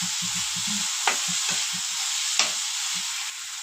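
Spices, including coriander powder, sizzle steadily in a pan with salt, a close hissing fry broken by the scrape and clatter of stirring.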